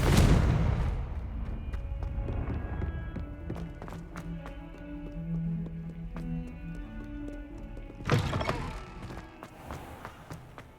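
The Confringo fire-blast spell in Hogwarts Legacy opens with a heavy explosive burst that decays into a rumble, with scattered taps and footsteps, then a second sharp crack near the end.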